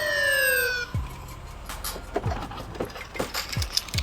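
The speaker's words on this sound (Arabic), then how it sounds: "هذه الشرطة تيمبني وبوليسكي هذو شرطة فاسدة" A police siren from the video game GTA San Andreas wails briefly at the start and cuts off, followed by a series of low thuds and scattered clatter.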